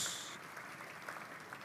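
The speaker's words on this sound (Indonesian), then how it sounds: "Tepuk tangan yang paling meriah buat Yesus." A church congregation applauds during a sermon, producing a brief, steady wash of clapping at moderate distance with no pauses.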